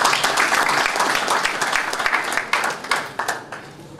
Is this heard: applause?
yes